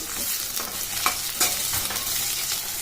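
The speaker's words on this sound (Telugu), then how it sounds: "ఇప్పుడు కట్ చేసి పెట్టుకున్న క్యాప్సికమ్ ముక్కలు కూడా వేసుకొని కలుపుకొని పెట్టుకోవాలి" Onion and capsicum pieces stirred in a frying pan for capsicum lemon rice, a steady close sizzle broken by several scraping stir strokes, no voices.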